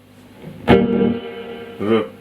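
A Catalinbread Adineko delay pedal sounds a struck guitar note followed by a distinct echo repeat, the tone ringing with a warm, slightly smeared tail before the second repeat swells back in near the end.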